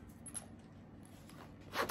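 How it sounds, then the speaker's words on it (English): A zipper pulled shut on a cash envelope wallet, a short quiet rasp near the end of a soft, close-up stretch with faint handling noise. "I'll go ahead and zipper it up."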